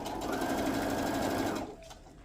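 A sewing machine stitching a stocking cuff onto a quilted Santa stocking runs in a steady, close whirring drone for about a second and a half, then stops abruptly, leaving faint handling sounds.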